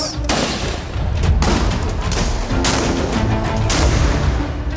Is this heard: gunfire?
yes